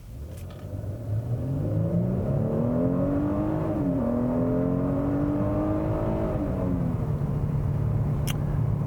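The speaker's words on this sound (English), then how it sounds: "And the engine also makes a pretty nice noise. It's very smooth, it's very refined." A 2017 Genesis G90 3.3T twin-turbo V6 in sport mode hums smoothly from inside the cabin as it accelerates, its engine tone rising, dipping briefly, climbing again, then settling into a steady cruise, with no talk.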